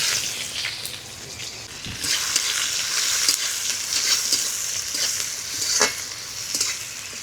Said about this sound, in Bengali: ফোড়নটা ভাজা হয়ে গেছে দিয়ে দেবো কুচানো পেঁয়াজ